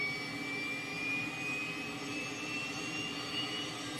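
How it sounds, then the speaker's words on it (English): The jet engine of the 'Tweet' trainer aircraft in a flight simulator drones steadily, with a thin high whine rising slowly over a broad rumble, constant and even throughout. "they used to call it the tweet apparently because of the unique tweeting noise the engine made"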